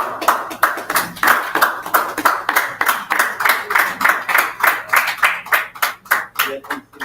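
An audience at a business summit clapping, a steady run of loud, close hand claps lasting the whole stretch with a brief spoken word near the start.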